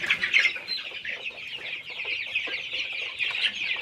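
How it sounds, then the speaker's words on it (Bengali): A flock of 28-day-old Sonali chicks, about 750 birds, clucks and peeps in a poultry shed in hot weather. The chatter is dense, high and continuous, close and fairly loud, with no talk. "2 নাম্বার শেডে 750 পিস সোনালী মুরগির বাচ্চা উঠিয়েছি।"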